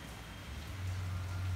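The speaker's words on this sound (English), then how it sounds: "It's raining outside." Rain falls outside in Myanmar's rainy season, a faint, steady patter and hiss with a low hum beneath it, brief and without talk.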